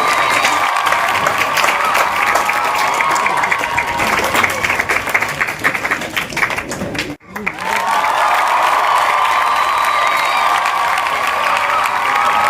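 Audience at a school award ceremony honouring students from standards 10 and 12 claps and cheers loudly. The noisy applause breaks briefly in the middle, then resumes just as strongly. Voices shout within the crowd.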